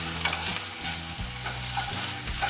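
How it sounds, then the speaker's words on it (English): Cumin seeds and ginger garlic paste splutter and sizzle in hot oil in a kadai, a steady close-up frying crackle with stirring scrapes running throughout and no voices. "I'm going to add some ginger garlic paste. Make sure this will definitely splutter."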